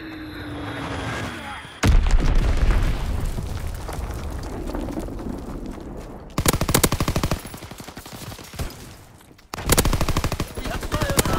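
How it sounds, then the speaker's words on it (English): Intense video-game combat in which a Fritz X bomb is dropped: a sharp blast, then sustained rapid gunfire and bursts of artillery, loud and dense throughout. "Dropping Fritz X-Bomb."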